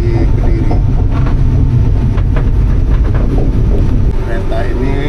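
An economy-class Singasari passenger train running on rails in Java, giving a loud, continuous rumble and rattle from inside the carriage with faint clatter, while voices murmur underneath.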